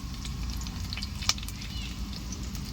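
Vadagam and curry leaves frying in hot oil for a village-style dry fish curry, a steady low sizzle and crackle throughout with one sharp pop near the middle, fairly quiet and without talk.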